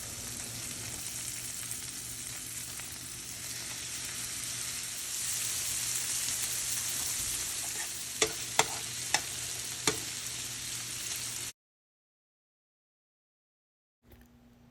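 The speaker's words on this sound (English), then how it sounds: "I'm going to be flipping the shrimp one at a time. We're going to cook them on this side for about a minute." Shrimp searing in a pan for creamy Cajun shrimp pasta, a steady close sizzle that swells midway, with several sharp taps as pieces are flipped, then cuts to silence.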